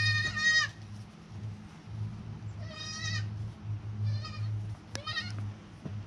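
A goat gives several short, nasal bleats in separate bursts over a few seconds, close by, over a low steady background hum, with no talk.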